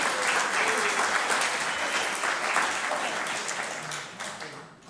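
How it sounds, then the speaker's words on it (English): Steady applause from an alumni gathering at Cogswell College, honoring alumni, faculty and students, sustained and fairly loud for about five seconds before thinning slightly at the end. "I want to give you a big round of applause also"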